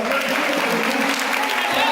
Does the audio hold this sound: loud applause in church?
yes